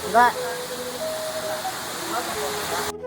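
Water rushes in a steady, even hiss at a Basaveshwara temple in Dammur, with a brief voice and a few faint tones sounding over it.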